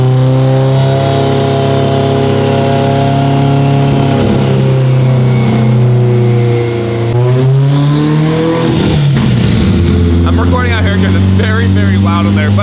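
A 1000 whp Subaru STI roars loudly and steadily on a dyno, its engine note climbing and dipping through strong harmonic sweeps with bursts of popping near the end, alone with no talk.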